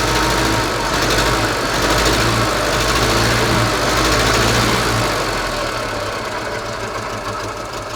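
Żuk van engine with a wrecked valve seat and bent pushrods runs loud and steady up close, a rough rhythmic valve knock chattering over the idle, easing slightly toward the end.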